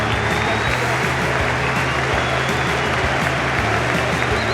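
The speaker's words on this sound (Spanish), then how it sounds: "Raúl dejó el campo aplaudido por su gente" A stadium crowd at a football match applauds a player leaving the field: dense, continuous clapping and cheering at a steady level throughout, with no clear voices standing out.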